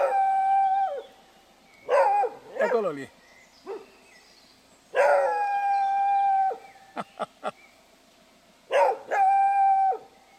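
A dog near a horse pasture outdoors lets out a series of long close howls mixed with short yelps and a quick run of sharp barks, while a person briefly speaks between them.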